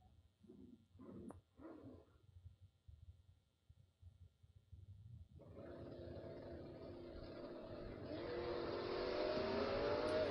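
Drag race cars launch off the Christmas tree at a King of the Creek event. Faint crowd and ambient noise give way to a sudden loud engine roar that builds and swells steadily toward the end.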